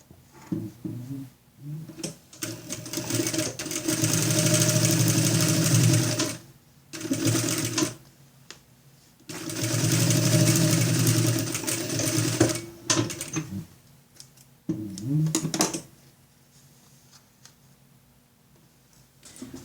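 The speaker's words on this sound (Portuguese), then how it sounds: "E vamos fazer uma costurinha de um pé de máquina aqui desse lado." A sewing machine stitches a zippered school pencil case with an elastic strap in several long, loud, steady runs broken by short pauses and fabric handling, close up.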